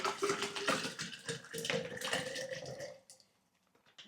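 Water pours into a cup for a pre-workout drink in a steady, splashing stream that rises in pitch for about three seconds, then stops and leaves near silence.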